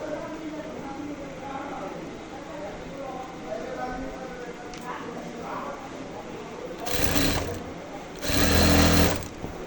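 Sewing machine stitching piping onto the side seam of a kameez, heard as two loud bursts of whirring near the end, after a stretch of quieter handling noise with talk over it.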